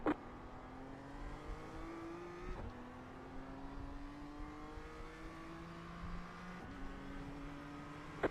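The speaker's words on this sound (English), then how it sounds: "Faster car coming up quick." A race car in the Nürburgring 24 hour race approaches and passes, its engine note climbing steadily as it nears, with loud whooshing transients as it sweeps by before the tone drops away and another approach begins.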